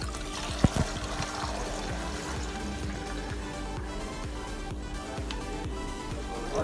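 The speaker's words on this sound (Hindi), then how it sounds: "ये हम लोग का फिल्टर का पानी है नॉर्मल तो मैंने मंगाया है बाहर से भरते हैं फटाफट से" Filtered water is poured into a betta fish tank in a steady, continuous splashing stream, with a couple of knocks near the start.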